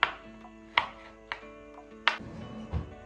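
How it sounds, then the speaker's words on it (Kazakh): Garlic chopped finely with a knife on a board, four or five sharp separate chops spaced under a second apart, close and clear with no talk. "Чеснокты осылай майлап турап аламыз."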